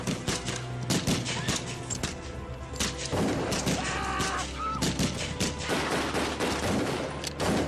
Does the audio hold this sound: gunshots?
yes